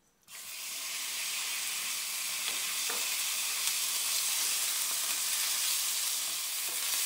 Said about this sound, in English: Heat 2 tablespoons of oil in a frying pan and fry the chicken for 2